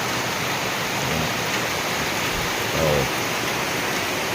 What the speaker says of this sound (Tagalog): Ulan at saka hangin.